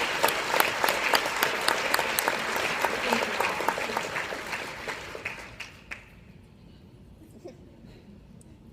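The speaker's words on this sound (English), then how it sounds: "so give yourselves a round." Audience applause at a talk rises full and close, then thins out and fades over several seconds, leaving quiet room noise with a brief spoken thanks near the end.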